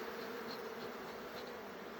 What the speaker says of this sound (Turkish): arılarımız yine sinirlendiler